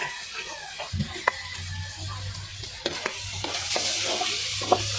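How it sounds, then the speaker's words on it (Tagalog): Vegetables being stirred in a cooking pan, a steady scraping and rustling with light sizzling and occasional utensil knocks against the pan, close and moderately loud, with no talking. "Halo, konting halo."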